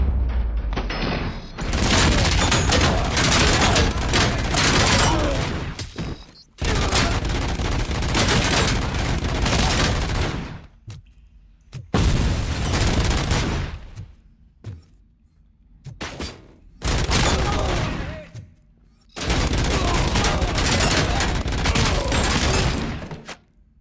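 Sustained bursts of rapid gunfire in RoboCop: Rogue City, loud and dense, broken into several long volleys separated by brief near-silent gaps, with no voices.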